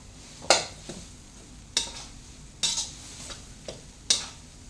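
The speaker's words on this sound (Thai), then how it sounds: "ผัดให้จนเขาแห้งค่ะ" Thai herbal chili paste stir-fried in a pan until dry, heard as a soft low sizzle under sharp, spaced scrapes and clinks of a utensil against the pan, about five distinct strokes, close and moderately quiet with no talk.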